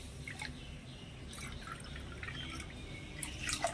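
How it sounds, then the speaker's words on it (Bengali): Water poured onto a cup of sugar in a wok to make sugar syrup, giving a soft, faint trickle and patter of drips that runs steadily through the clip with a few brighter splashes near the end. "এই কাপটা মেপে চিনিটা নিয়েছিলাম এক কাপ তো সেই জন্য দিয়ে দিচ্ছি দেড় কাপ জল"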